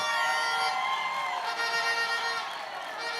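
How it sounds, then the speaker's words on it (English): A hospital staff audience at a national launch event in South Africa cheers and claps for a national anthem rendition, a dense, steady crowd roar with whoops throughout. "Can we give them a round of applause again?"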